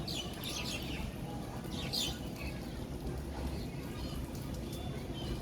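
Birds chirp in short high bursts over a steady, noisy background, with a voice murmuring faintly underneath.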